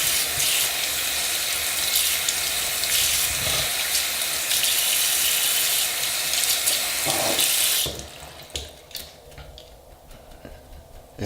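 Makeup brushes rinsed under a running tap, a loud steady rush of water into a sink that cuts off partway through, leaving faint drips and handling sounds.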